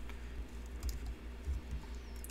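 Keys on a computer keyboard are pressed to enter CAD drawing commands, a few soft close clicks over a steady low background hum.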